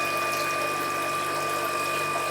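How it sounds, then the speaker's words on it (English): A pump pushes water up to trickle out through holes and aerate a fish tank, giving a steady, close mechanical hum with a constant tonal whine over a wash of running water. "So once the water is pumped up in here, it's trickled out through these various holes."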